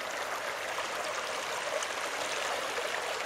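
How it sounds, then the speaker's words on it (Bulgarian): A clear mountain brook in a meadow in the Rila mountains babbles continuously, a steady close bright rushing and gurgling of water with no voices. "с едно прекрасно бистро ручейче"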